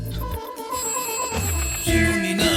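An electronic ringtone plays a repeating tonal melody, fairly loud and close, with some background clatter underneath.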